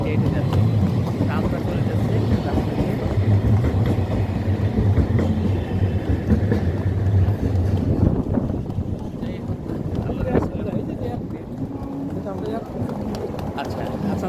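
Low rumbling rail noise of a tram rolling past, fading after several seconds, with outdoor wind and people talking nearby.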